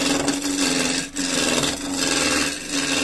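A woodturning gouge rides its bevel against spinning wood on a lathe, producing a steady, continuous scraping hiss close up, with brief dips as the tool moves along the tool rest.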